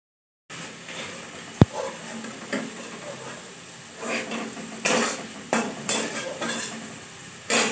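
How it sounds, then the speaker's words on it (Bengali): Potato and papaya pieces fry in a pan for a fish curry, with a steady sizzle broken by bursts of stirring and scraping and one sharp knock near the start. "আর এগুলো একটু ভাজা ভাজা করবো মাছের ঝোলের জন্য"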